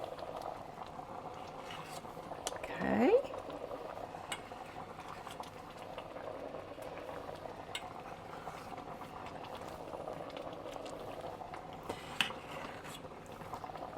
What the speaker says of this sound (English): Just drop them into this as it's boiling.